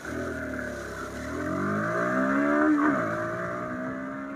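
Bajaj Pulsar 160 NS motorcycle accelerating hard in a 0-60 run, engine pitch climbing through the gears with a brief dip at a shift, loud and close throughout.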